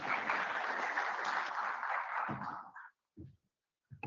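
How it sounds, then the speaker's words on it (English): An audience at a technical conference session claps steadily for a couple of seconds before the applause fades out, followed by a few short faint sounds in the quiet hall. "Please, a round of applause for him."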